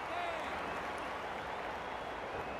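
A crowd at an AFL football match applauds and murmurs as a steady, fairly faint wash of clapping and crowd noise, with no clear speech.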